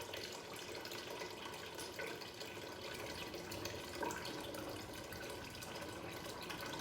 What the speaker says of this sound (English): I'm adding enough water to probably cover the bones and stuff in here